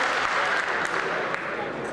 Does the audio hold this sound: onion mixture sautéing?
no